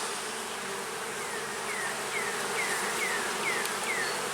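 Honeybees buzz around an open hive while a new queen is being marked, a dense continuous hum with individual bees whining past close by, steady and alone without talk.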